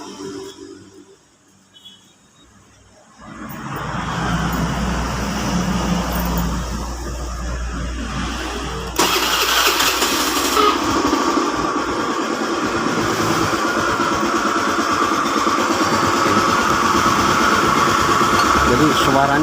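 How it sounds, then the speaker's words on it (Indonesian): Honda Beat scooter engine starts up after a quiet moment and settles into a loud, steady idle with a harsh knocking from the crankcase, the noise jumping louder partway through as the throttle opens. "saya kedatangan motor Beat, jadi suaranya keras sekali"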